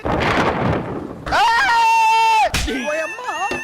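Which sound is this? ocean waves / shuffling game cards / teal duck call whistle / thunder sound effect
thunder sound effect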